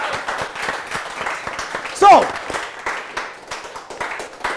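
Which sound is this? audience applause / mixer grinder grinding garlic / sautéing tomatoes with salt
audience applause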